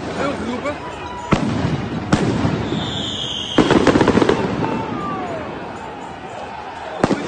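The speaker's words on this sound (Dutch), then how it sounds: "Het vuurwapen is weer ter hand genomen. Er wordt geschoten." Gunshots fired during a street riot in Rotterdam: several sharp, loud cracks at irregular intervals, including a tight burst of rapid shots, over an outdoor crowd din with voices.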